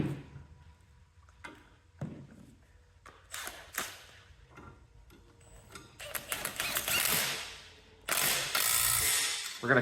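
A socket wrench ratchets in quick clicking bursts while tightening 15/16 hitch pins on a Cub Cadet three-point hitch kit, scattered clicks early building into longer, louder runs of rapid ratcheting near the end.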